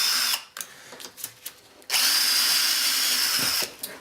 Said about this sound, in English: when you drill those rivets out